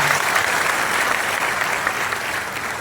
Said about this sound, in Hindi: माननीय मुख्यमंत्री जी के पास जोरदार तालियों के साथ अभिनंदन वंदन स्वागत